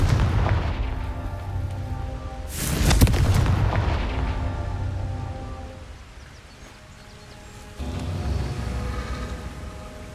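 A Confringo spell in a Harry Potter video game sets off a loud, booming blast, a sudden burst followed by a long rumbling roar that slowly fades, then rises again under a low background rumble.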